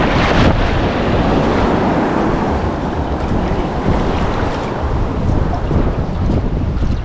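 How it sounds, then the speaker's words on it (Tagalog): Big ocean waves crash and churn under strong wind, a loud, continuous roar of surf and gusts buffeting the microphone close by, with no clear voices. "Yan, malaki din ang alon."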